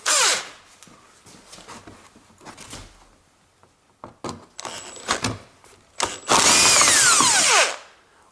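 A power tool spins out a bolt behind the headlight of a Toyota Avensis, with a few short whirring bursts, handling clicks and then a louder sustained whine near the end, close up.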